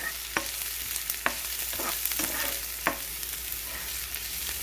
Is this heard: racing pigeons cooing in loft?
no